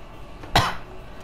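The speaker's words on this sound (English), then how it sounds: "Sorry if I cough a lot." A single sharp cough, close and fairly loud, bursts out once against a quiet background.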